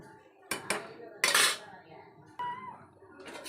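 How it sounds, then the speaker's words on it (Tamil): A few metallic clanks and clinks of cookware up close as a lid is set down on a pot of simmering curry, separated by brief quiet gaps. "எல்லாத்தையும் போட்டுட்டு நல்லா கொதிக்கட்டும்னு மூடி வச்சிடலாம்"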